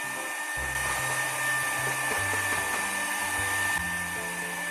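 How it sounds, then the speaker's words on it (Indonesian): An electric mixer beats margarine until soft and light for a steamed marble sponge cake batter, giving a loud, steady motor whir whose low hum shifts in pitch from moment to moment, with no talking. "kita mixer margarin hingga teksturnya lembut dan ringan seperti ini"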